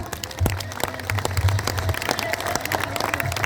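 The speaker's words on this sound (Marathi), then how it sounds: "साहेबांना विनंती टाळ्या वाजा" An audience at a religious gathering welcoming a revered maharaj claps in a dense, irregular patter throughout, with a low hum and a few voices underneath.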